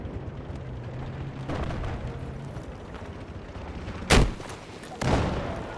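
Gunfire in a first-person shooter video game during a tank battle, with a sharp loud shot near 4.2 seconds and another burst near 5 seconds over a steady rumbling battlefield background of engines and distant fire.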